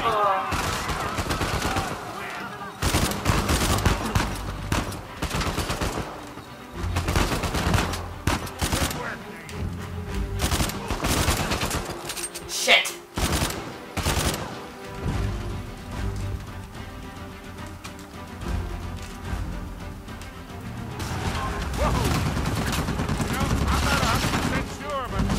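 Gunfire from the PS4 game Uncharted 4, with repeated bursts of shots and booming impacts mixed with game sounds, while a voice talks over parts of the action.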